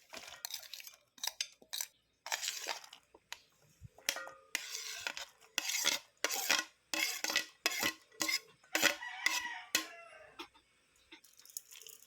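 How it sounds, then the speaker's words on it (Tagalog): Mango salad ingredients being tossed and mixed together in a container, with a series of short clattering, scraping bursts of utensil against bowl, close and fairly loud, no talking. "Pag ready na lahat ng sangkap, paghalu-haluin lang natin ito sa isang lagayan."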